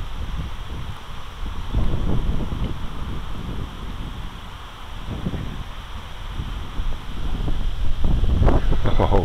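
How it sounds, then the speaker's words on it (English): Strong wind buffets the microphone in loud, rumbling gusts that rise and fall without a break. "Oh, that is windy."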